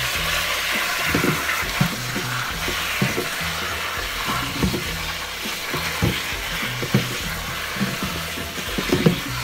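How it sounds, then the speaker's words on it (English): Leafy greens rinsed under cold running tap water for a green smoothie, a steady close hiss and splash of flowing water with soft rustling and patting of wet leaves throughout. "Nice cold rinse."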